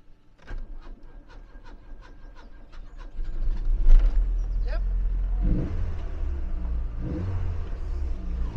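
A Rover 800 Turbo Coupe engine cranks with a rapid starter whirr, then catches and settles into a loud, rough idle with a couple of revs, close up, with a brief spoken word before it starts.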